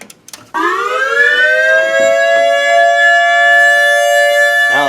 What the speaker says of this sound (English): So we'll start with the Whelen, and we'll do alert.